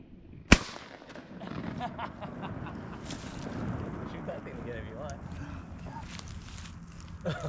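A shotgun fires once at ducks during a hunt. The single sharp, loud blast comes right at the start, followed by outdoor background noise and people talking.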